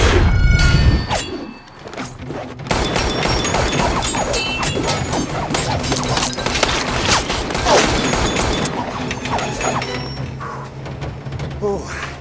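Gunfire fills the Deadpool 2 truck scene, with a dense, continuous burst of shots, crashes and impacts after an opening loud hit, sustained at close range throughout.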